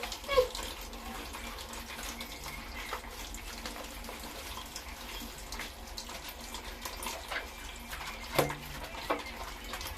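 Water runs steadily throughout while a pet is bathed, soaped and rinsed, with a few brief splashes and knocks standing out over the continuous flow.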